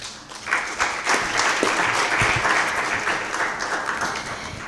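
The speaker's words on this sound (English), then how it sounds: "another very big round of applause for my panelists" Audience at a youth dialogue event in South Africa gives panelists a big round of applause, a loud, dense, sustained clapping that swells in and holds steady throughout.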